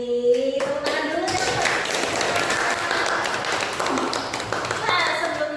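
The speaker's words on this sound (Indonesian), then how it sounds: "Tepuk tangan dulu." A small group claps hands at the close of a podcast conversation, a burst of quick, fairly close claps mixed with laughter and voices talking over it.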